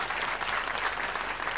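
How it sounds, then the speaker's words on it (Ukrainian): Audience applause rolls through a comedy club show, steady dense clapping from a crowd for the whole stretch, loud and close with no break. "Ваши аплодисменты."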